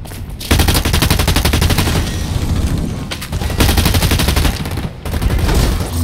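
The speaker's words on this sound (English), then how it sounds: "Oh crap, I got shot in the back." Rapid automatic gunfire in the futuristic shooter Blacklight Retribution, dense bursts of loud, close shots with brief pauses between volleys.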